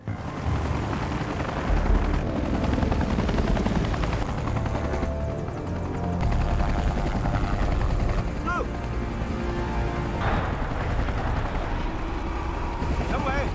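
A loud helicopter rotor thrums continuously and close by, a dense roaring drone filling the whole stretch.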